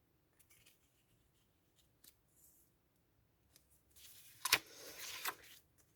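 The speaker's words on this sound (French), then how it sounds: "Mais faudrait presque que je les découpe aussi" Scissors snip paper for a bullet journal, faint scattered cuts at first, then a louder close burst of crisp snipping and rustling near the end.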